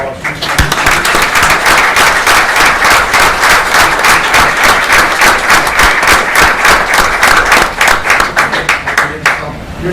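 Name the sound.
applause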